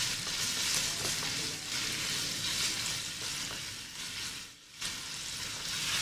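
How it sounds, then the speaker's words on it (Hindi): Chicken pieces frying in oil for chilli chicken, a dense, steady sizzle with stirring, holding level for most of the stretch before a brief dip and then resuming, with no voices. "अच्छा सा आपने इसको फ्राई करना है।"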